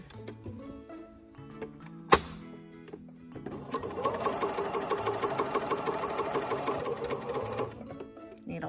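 A sewing machine stitches a garment corner, its rapid, even mechanical chatter running steadily for several seconds after a sharp click, with quieter handling sounds before it starts.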